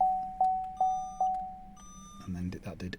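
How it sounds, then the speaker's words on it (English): A Vauxhall Astra K bladed key being programmed gives four evenly spaced electronic beeps, then a higher double tone, followed by clicks and handling sounds. "that did 2 green beeps to say that it's 2 keys now programmed"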